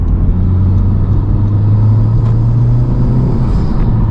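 A 2021 Honda Civic Type R's turbocharged engine drones loudly from inside the cabin, its low hum rising slowly in pitch as it pulls harder under boost, with faint intake whooshes above.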